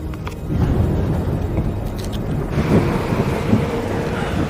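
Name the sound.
thunderstorm approaching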